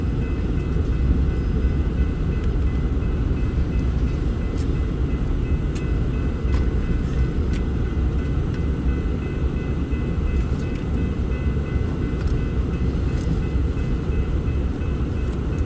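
A freight train rolls slowly out of a rail yard from the fueling racks, a steady low rumble with continuous broadband roar and faint metallic ticks, heard from nearby without any voices.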